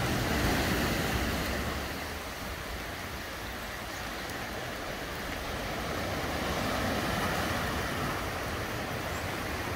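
Sea waves surge and wash at Ilhabela in rainy, windy weather, a steady broadband roar of surf with wind buffeting the microphone, loud and continuous throughout with a slight swell at the start and end.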